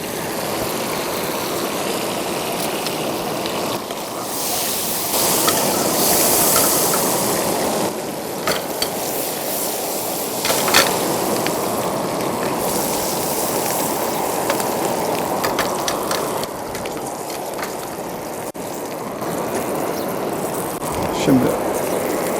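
Onions sautéing in a pan as bay leaves go in for sour cherry meatballs, a loud continuous sizzle and hiss throughout with a person talking over it.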